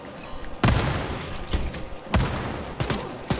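Heavy gunfire in the video game Wolfenstein: Youngblood comes as three loud booming bursts, each trailing off into rumble, close and dominant.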